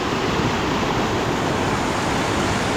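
Rushing water from a secret waterfall in a swollen monsoon flow at Shrivardhan, a steady broadband roar that holds constant and loud throughout, with no voices.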